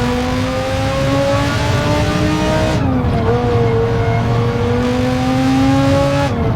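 Engines of GT race cars in Gran Turismo 7, including a Citroën GT and a Renault GT3, a loud continuous roar that climbs in pitch, drops with a gear change, then climbs again, with no talking.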